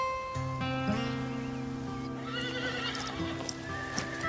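A cartoon horse gives a loud, drawn-out neigh while hooves clip-clop steadily underneath, all close and clear.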